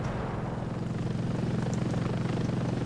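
A helicopter's rotor thrums steadily in Ravenfield, a constant low chopping drone that holds at an even, fairly close level with no talking.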